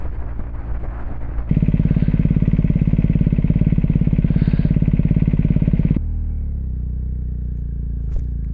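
A big motorcycle ridden along a road: a steady, loud engine drone with a throbbing, rapid beat under strong acceleration for several seconds, then easing back to a lower, quieter hum.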